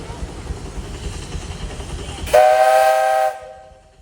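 Steam tractor whistle at a tractor parade, one loud sustained blast of about a second with a bright tonal chord, cutting in over crowd murmur and fading into echo.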